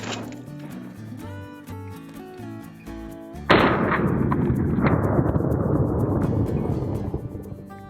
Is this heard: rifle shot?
yes